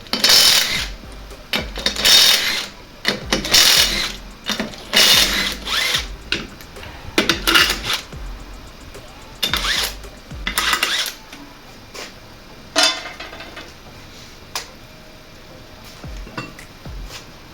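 Wheel nuts, 21mm, being loosened and removed from a Toyota Yaris wheel with hand tools: a series of short metallic ratcheting and clinking bursts in irregular rhythm, close and fairly loud, with quieter handling noises between them.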